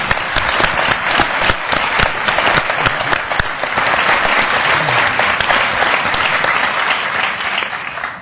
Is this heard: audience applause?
yes